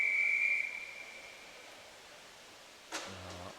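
A long, steady, piercing whistle sounds at an indoor swimming gala before a heat and fades out after about a second and a half, over reverberant pool-hall ambience, followed by a brief sharp tone near the end.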